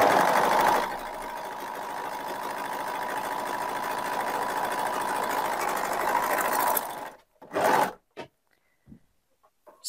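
A coverstitch sewing machine runs steadily and loudly up close, stitching super-stretchy fabric for several seconds before stopping, followed by a few short mechanical clicks and handling sounds.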